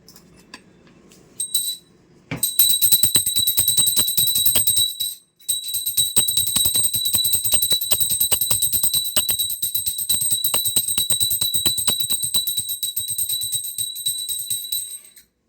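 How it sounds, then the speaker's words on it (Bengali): A prayer bell rings rapidly and continuously during a Shiva puja, bright, sustained metallic tones clanging steadily for about twelve seconds after a brief start. "ঘন্টাটা বাজা।"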